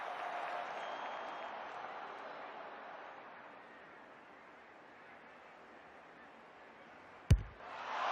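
A stadium crowd at an AFLW women's Australian football match cheers in a broad, steady roar that slowly fades, broken by a sharp thud near the end before the noise swells again.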